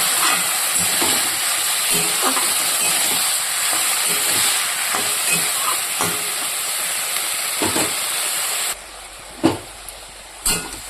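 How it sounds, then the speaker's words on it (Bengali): Vegetable chorchori curry is stirred in a pan, giving a steady sizzling hiss with scattered scraping knocks from the utensil, cutting to quieter thumps near the end. "ভালো করে নাড়াচাড়া করে তারপরে ঢুকে দেব"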